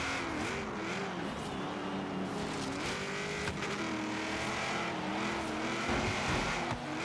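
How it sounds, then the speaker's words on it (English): Engines of a Dodge Viper and a Chevelle race in Forza Horizon 3, a continuous wavering engine drone with repeated rev rises and falls over road noise. "Ooh, the Dodge Viper is already pulling away."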